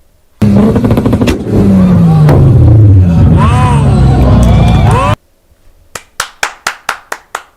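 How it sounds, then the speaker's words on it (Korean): At a motorcycle exhaust sound contest, a loud, dense roar fills most of the stretch. It then gives way to a small group clapping about eight sharp, evenly spaced times, close and clear against near silence. "내 말했잖아 박수 치고 있다고."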